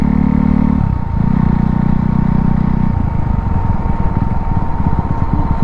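A KTM RC 390 motorcycle running without an exhaust gives a loud, continuous engine drone close by. The tone holds steady, then shifts pitch and turns rougher partway through, with no speech.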